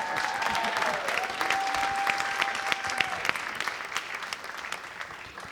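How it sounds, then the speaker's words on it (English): A film audience rises in a standing ovation, dense sustained applause filling the room at steady strength with scattered sharper claps, a few voices faintly mixed in and fading slightly toward the end. "this is the first standing ovation I've seen"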